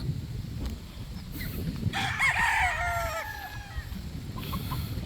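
A rooster crows once, clear and fairly close, over a steady low rumble of background noise.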